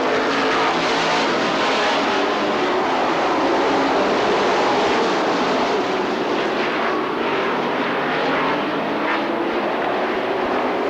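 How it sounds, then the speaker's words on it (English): Race cars roar past at high speed in a 1999 Bahama Bracket Nationals feature race, a continuous loud engine drone with rising and falling pitch as they sweep around the track. "39 car moves it up into the third spot over Deering in the 5."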